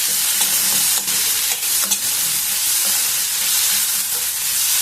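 Potatoes and turmeric fry in a pan for lemon rice, giving a close, steady sizzle broken by scraping stir strokes, with no talking.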